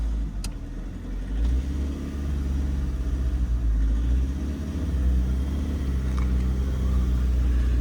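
A car engine labours uphill in low gear on a snowy winter road in Spiti, Himachal, giving a deep, steady, close rumble that surges slightly, with no voices.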